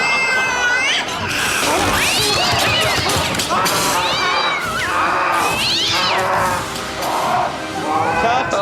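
Several cats meow and yowl over a busy, noisy background, their cries rising and falling one after another, loud and close, with some louder wails toward the middle and end.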